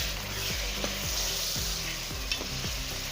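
Half a kilo of chicken fries in a pan for shaljam gosht, a steady close sizzle with occasional soft stirring scrapes.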